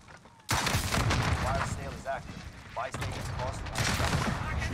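Shotgun fire in the Call of Duty Warzone video game, a dense burst of loud blasts filling most of the clip, with excited voices shouting over the shooting.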